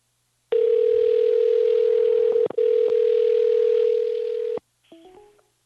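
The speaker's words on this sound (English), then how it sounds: "I think the phone just went dead." A loud, steady telephone dial tone sounds alone after a call drops, with one brief break partway through before it cuts off, followed by a few short electronic blips.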